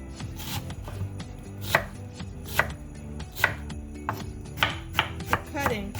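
Knife chopping onions on a cutting board, a run of sharp, evenly spaced strokes, close and clear, with faint kitchen background and no speech.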